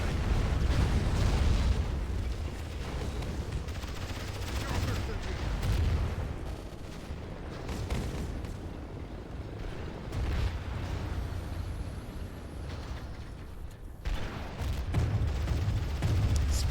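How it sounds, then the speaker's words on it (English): Repeated booming solar burst superweapon blasts and rumbling explosions from the real-time strategy game Rise of the Reds, a dense, continuous barrage of heavy low impacts with scattered gunfire, loud throughout with brief lulls. "And I hear more solar bursts"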